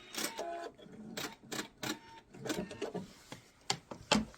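A sewing machine makes short back-and-forth bursts to lock the binding stitches on a quilted piece, brief clattering runs separated by pauses, close and moderately loud with no talking.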